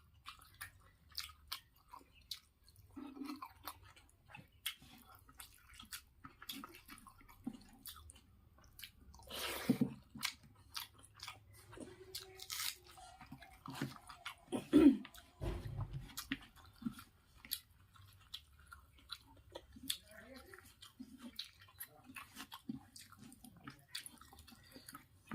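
Quiet, close chewing and wet squishy bites while eating egg yolk with curry at a simple Indian lunch, soft mouth sounds repeating irregularly over a long stretch with no talking.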